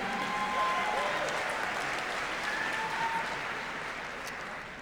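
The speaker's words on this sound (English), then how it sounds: "You should clap" Audience applause fills a political summit hall, a steady wash of many hands clapping that tapers slightly, with faint voices calling out in the crowd.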